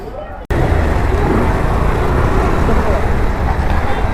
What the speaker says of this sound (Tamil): காய்ஸ் டிராஃபிக்கை பார்த்தீங்களா